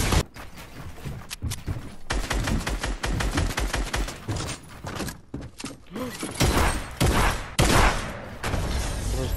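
Gunfire in Fortnite, dense and loud throughout, with rapid automatic bursts and heavy single shots overlapping almost continuously, no voices.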